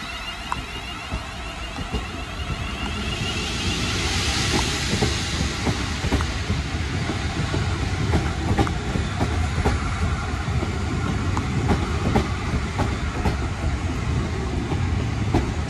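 A London Northwestern Railway Class 350 electric multiple unit, 350264 coupled with 350120, pulls into Crewe station, its motors and wheels rumbling and hissing at close range with rhythmic clicks over the rails, steady and loud throughout.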